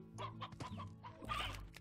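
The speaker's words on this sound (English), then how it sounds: "Okay, so there's some hens over there." Hens clucking in the video game Slime Rancher: a run of close, fairly loud clucks and short squawks in quick succession, with no talking.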